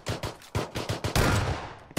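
Gunfire in the battle royale game PUBG, several sharp rapid shots in quick bursts, loud and close, ending in a longer rattling volley.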